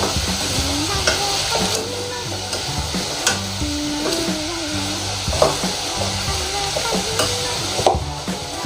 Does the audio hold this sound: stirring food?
yes